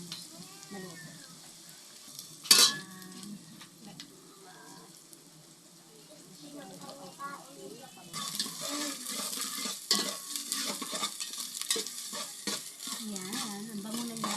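Ginger sautés in a pan for papaitan as a spatula scrapes and stirs in uneven strokes. A sharp metallic clatter comes early, then the sizzle grows louder and denser partway through. No voices are heard.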